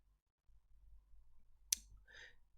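A single crisp computer mouse click sounds close and sharp against near silence, followed by a faint softer tick.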